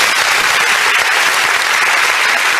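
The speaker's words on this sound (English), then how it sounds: "Please, can we give that guy a round of applause?" A youth dialogue audience in Lagos applauds steadily, a dense wash of clapping holding at a constant loud level throughout, with no voices standing out.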